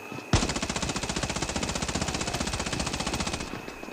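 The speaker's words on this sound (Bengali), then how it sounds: "সামনে আমি মারতেছি, এই স্কোপ করে মারতে আছি" Scoped automatic fire in the mobile shooter game Scarfall 2.0 opens with a sharp crack and runs as one unbroken rapid burst of evenly spaced shots for about three seconds, loud and close.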